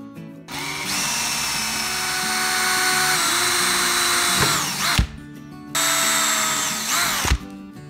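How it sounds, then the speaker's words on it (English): A power drill whines loudly in two long bursts, pitch sagging as it bites into material, with a brief pause between runs. "Then we'll go ahead and drill the pilot holes."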